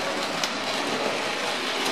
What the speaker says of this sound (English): Now the third train is the City of Truro. Here it comes.